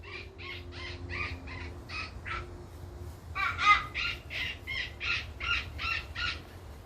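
A pileated woodpecker calls in two quick series of loud, evenly spaced notes, each burst a rapid string of about ten repeated calls heard outdoors.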